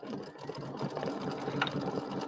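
An embroidery machine stitches a small motif on a flag and cherries quilt block, giving a steady, fast mechanical whirring with a rapid needle rhythm throughout, close and moderately loud.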